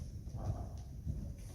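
Hooves of a 10-year-old warmblood gelding striding over ground poles, two dull thuds in an even rhythm on soft ground, close and moderately loud with no talk.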